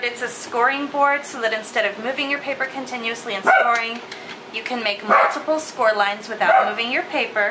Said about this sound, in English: Sorry about the barking, that's my puppies.